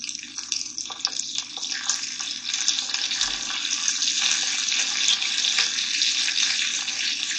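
Tomatoes going into a hot pan for salt fish breakfast tacos, giving a steady, bright hiss and sizzle that builds slightly and holds throughout with no talking.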